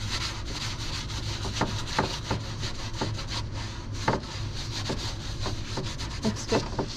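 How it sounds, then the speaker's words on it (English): Excess glue is scraped off a wooden shelf with a run of quick, rough rasping strokes in an uneven rhythm, close and moderately loud over a low background hum. "Now I gotta scrape off the excess a little bit. Just wipe off the excess glue."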